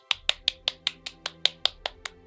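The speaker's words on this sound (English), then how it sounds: "Awkward one-man clapping." About a dozen sharp, evenly spaced claps from a single pair of hands, steady and unhurried, with nothing else around them.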